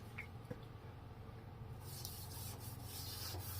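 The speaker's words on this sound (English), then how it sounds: "So we're wet sanding them now is what we're doing." A headlight lens being wet sanded by hand with a surface prep disc in a non-circular motion gives a soft, steady abrasive rubbing that grows louder and fuller partway through, close up with no talking.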